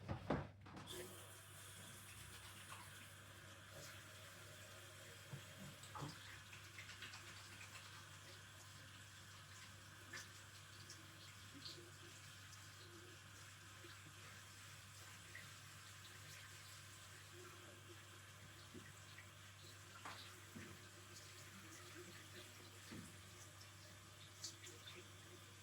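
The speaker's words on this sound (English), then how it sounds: "Okay, so let me wash my hands." Tap water runs steadily into a sink during handwashing, a continuous soft hiss after a brief opening clatter, heard close and fairly quiet.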